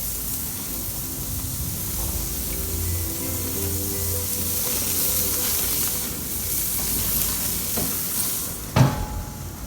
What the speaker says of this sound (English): we're just going to lay our skewers on the grill, and these only need about 2 to 3 minutes per side